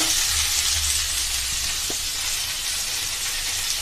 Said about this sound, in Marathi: थोडंसं म्हणजे छोटा 1 चमचा असं तेल घालणार आहे आणि त्याच्यामध्ये हे मी मगाशी दाखवल्याप्रमाणे सर्व बटाटे, शेवगा, फ्लावर, सोयाबीन हे सर्व रोस्टेड करणार आहे